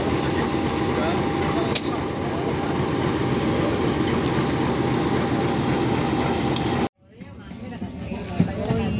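A locomotive on the Rajabasa line in Lampung gives off a loud, steady rumble and hum that cuts off abruptly near the end, leaving quieter ambient sound, with people talking in the background.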